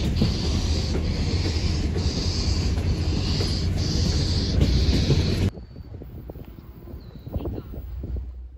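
Canadian Pacific 2816 steam locomotive and diesel locomotives haul a heavy train past, using dynamic braking, with steady, dense mechanical noise and a high whine, then an abrupt drop to a quieter rolling clatter.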